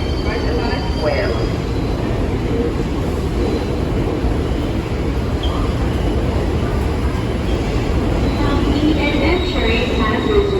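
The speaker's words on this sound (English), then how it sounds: "This is a Brooklyn Bound 5 express train." A New York subway 5 express train bound for Brooklyn rumbles loudly and steadily at Grand Central, with dense low rail noise throughout, a faint wheel squeal now and then, and a muffled onboard announcement voice underneath.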